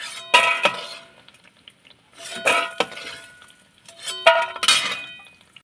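Fried lentil dumplings (bori) being lifted out of a pan of oil, three separate bursts of metallic scraping and clinking of a utensil against the pan, with short pauses between.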